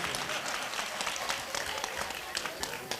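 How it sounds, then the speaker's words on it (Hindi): Applause from the audience at a Hindi comedy poetry gathering (kavi sammelan) held during a religious festival, steady dense clapping filling the whole stretch, moderately loud and without speech. "ताली कमजोर है"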